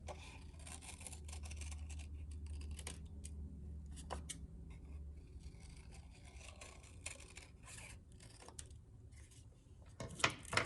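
Scissors snipping around a paper circle, a run of quiet, close crisp cuts and rustles with a low hum underneath.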